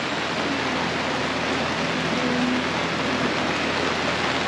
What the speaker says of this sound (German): Wir liegen und es regnet richtig.